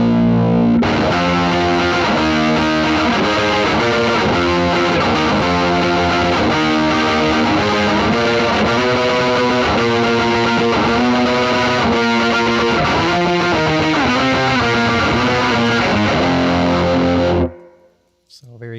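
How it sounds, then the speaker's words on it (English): Electric guitar run through a JHS PackRat distortion pedal, its clipped, saturated tone ringing out in a steady stream of loud chords and notes for most of the passage before cutting off near the end. "you can kind of hear the clipping that it does"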